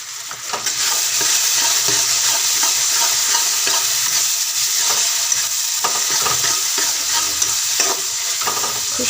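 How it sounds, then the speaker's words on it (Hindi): Spices frying in a pan of oil for chole masala, with turmeric and red chilli added, give a steady close sizzle and intermittent stirring scrapes throughout. "बस मसालों को हमें अच्छी तरह से भूनना होता है"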